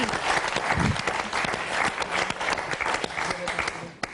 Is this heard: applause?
yes